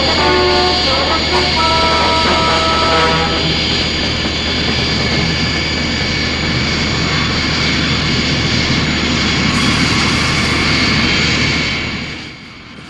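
Thunderbird 2, the transport aircraft from Thunderbirds, roars with a loud, steady jet-engine drone that holds for most of the stretch, rising briefly in a hiss before fading at the end, with music tones layered in early on.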